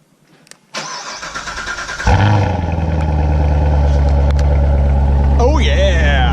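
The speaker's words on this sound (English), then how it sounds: "Today you might be wondering why I started out with a cold start" A Chevrolet C7 Corvette V8 fires up from cold: starter whir, then a sharp catch into a loud, deep roar that settles into a steady, heavy high idle, close by, with a whistle-like rise near the end.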